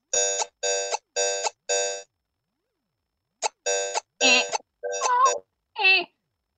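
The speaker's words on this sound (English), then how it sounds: "Is that a pocket operator?" A Pocket Operator synthesizer, the arcade model, plays bright, buzzy electronic beeps: four evenly spaced identical tones, a pause, then a quicker run of pitch-bending, warbling blips.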